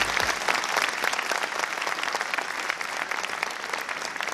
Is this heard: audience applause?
yes